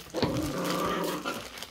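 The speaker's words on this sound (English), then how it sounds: "She's still a puppy." Puppies growl while they play, a close, rough, continuous rumble with a brief yelp near the start, heard alone with no talking.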